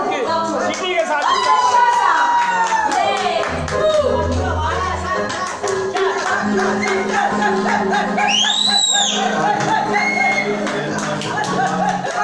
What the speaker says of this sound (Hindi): भरपूर तालियों